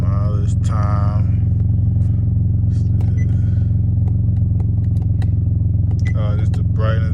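An Infiniti G37 with no muffler idles loudly close by, a steady heavy low rumble running unbroken through the whole stretch, with brief clatters and a few short tones popping above it.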